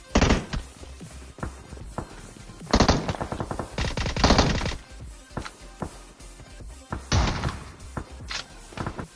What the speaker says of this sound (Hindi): मैं गया अपनी VSS लेके और भाई दोनों को एक साथ भर दिया।